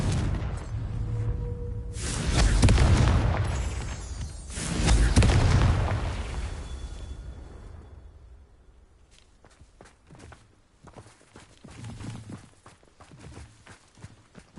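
Confringo fire spell in Hogwarts Legacy bursting twice in quick succession, two loud booming blasts that roll off and fade, followed by lighter footsteps and small impacts.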